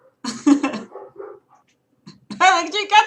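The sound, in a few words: person imitating a dog's bark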